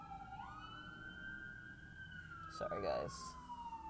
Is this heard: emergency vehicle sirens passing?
yes